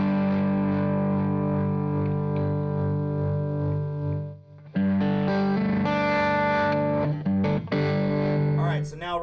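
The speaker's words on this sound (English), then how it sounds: "the tremolo sounds cool, but we notice like there's it's hitting the amps quite a bit harder" Electric guitar played through a Chroma Console pedal set to tremolo, sustained chords pulsing with a wobbling, distorted, chorus-like shimmer, loud and up close, with a brief dip before the strumming resumes.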